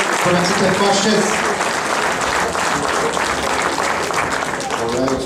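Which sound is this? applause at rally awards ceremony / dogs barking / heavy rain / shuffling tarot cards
applause at rally awards ceremony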